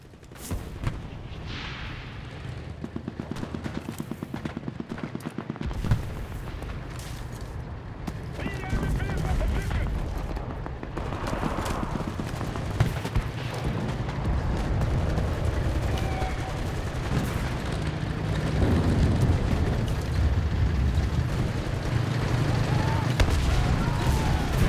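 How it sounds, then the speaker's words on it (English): A battlefield artillery barrage in the Normandy invasion of the game Enlisted rumbles with heavy booms and dense gunfire, continuous and loud throughout, with voices shouting underneath. "Calling in artillery!"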